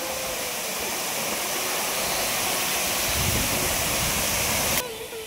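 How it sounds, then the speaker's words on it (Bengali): Moopun Falls in East Jaintia Hills, Meghalaya, pours in a dense, loud, unbroken rush of falling water, heard nearby and steady throughout with no voices over it. "এখান দিয়ে ওয়াটারফলসটা সুন্দর লাগছে"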